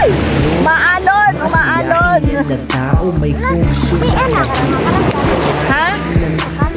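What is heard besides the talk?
strong sea waves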